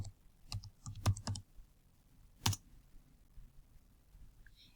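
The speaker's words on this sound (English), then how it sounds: "type in the word sulfur," Computer keyboard keys clack close by as a search word is typed, a short irregular burst of taps followed by one sharp keystroke and then quiet, with no talking.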